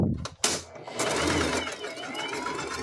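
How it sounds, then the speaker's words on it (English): A home sewing machine runs steadily on a long basting stitch (stitch length 4) along the raw edges of a cargo mini skirt, a close, continuous mechanical whir after a few brief clicks and handling noises at the start. "Now you're gonna do a basting stitch."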